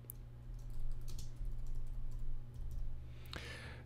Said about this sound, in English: Now you'll see when I type in my document